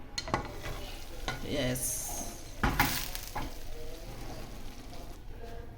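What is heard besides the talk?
stirring masala into cabbage curry in a pan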